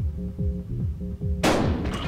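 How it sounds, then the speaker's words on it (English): A single loud, close shotgun blast from Buckshot Roulette cracks out sharply after a throbbing, rhythmic low pulse of game music and decays quickly. "I'm just gonna shoot you."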